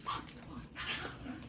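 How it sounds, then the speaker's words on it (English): Puppies fighting and yipping, a brief burst of small whimpering yips and growly squeals at low level, with muffled rustling between the cries. "The puppies are killing each other."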